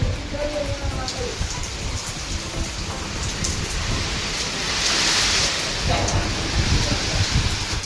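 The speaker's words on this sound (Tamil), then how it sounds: "அது காற்று மழை ரெண்டும் சேர்ந்து வருது" Heavy rain pours down steadily in Nepal while wind gusts swell and fade, with a faint voice occasionally audible beneath the downpour.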